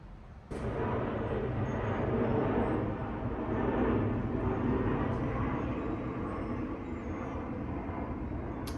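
Aircraft flaps whir: steady broadband whirring and rumble fills the cabin, loud and constant from start to finish, with no talking.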